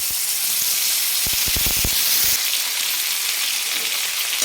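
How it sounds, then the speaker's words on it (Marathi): Thin potato slices hit hot oil on a tava, giving a steady bright sizzle and hiss with a cluster of crackling pops early on, close and continuous with no talking. "ते पाण्यातून काढून लगेच आपल्याला तव्यामध्ये टाकायचं आहे"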